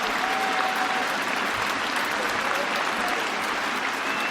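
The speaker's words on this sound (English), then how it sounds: "I think this applause may go on till lunchtime, actually." A packed crowd at the Oval cricket ground gives a standing ovation in a Test match, loud continuous clapping and cheering rolling on evenly without pause.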